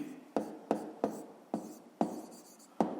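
A pen writing on paper during a fifth-grade maths exercise, heard as about six short, crisp scratching strokes spaced roughly evenly apart, close and fairly quiet with no talking.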